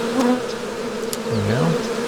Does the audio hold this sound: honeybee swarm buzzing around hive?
yes